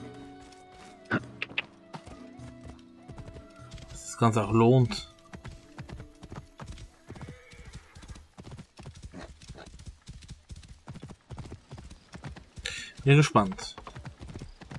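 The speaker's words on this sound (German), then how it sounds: "Und wir nehmen eins von den Pferden hier." Steady clip-clop of horse hooves while riding in Assassin's Creed Origins, with two loud neighs rising above the rhythmic trotting as someone talks over the gameplay.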